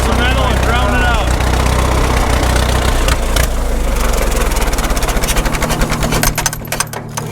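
An Allis-Chalmers M crawler dozer, left sitting for years, running at a steady idle with a loud continuous engine drone, the rhythm growing choppier toward the end as people talk over it.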